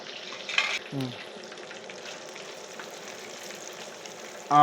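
Choppathatta fish from a village pond fry in a pan with a steady, close crackling sizzle throughout. A few brief knocks sound near the start and a louder clatter at the very end.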